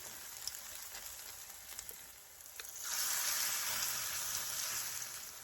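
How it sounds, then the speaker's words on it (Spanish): Corn fritters frying in four spoonfuls of hot oil in a pot over medium heat, a steady soft sizzle that swells louder midway and continues alone without talk. "Ahora vamos a iniciar a freír nuestras tortitas de elote."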